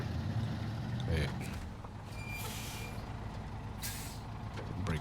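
Air brake hiss from a Fleetstar truck in SnowRunner, a short burst of released air near the start, with engine rumble running underneath and further hissing sounds later.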